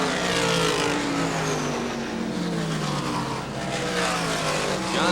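A race car laps an oval track during the Miller 300, its engine roaring steadily with shifting pitch as it comes off the fourth corner, loud and close with faint tire noise and no voices.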